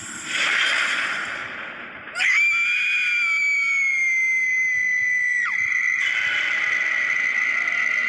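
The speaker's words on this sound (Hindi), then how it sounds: "एक जोर से चीखने की आवाज आई।" A harsh noisy cry gives way to a long, piercing, sustained scream that holds its pitch, breaks briefly, then resumes loudly.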